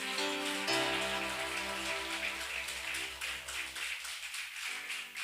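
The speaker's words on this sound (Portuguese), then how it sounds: "Aplauda o Senhor em nome de Jesus." Steady congregation clapping in church, dense and continuous like rain, over sustained organ-like music tones, loud throughout.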